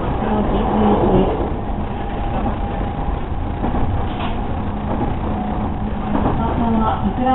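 Interior of a JR Kashima Line 209 series 2000-number local train running between Sawara and Itako, a steady rumbling hum of motion and rail noise throughout, with an onboard announcement voice speaking over it.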